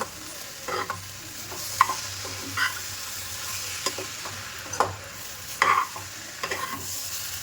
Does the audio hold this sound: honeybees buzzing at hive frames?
no